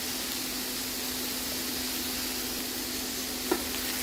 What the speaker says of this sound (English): Stir for a few seconds.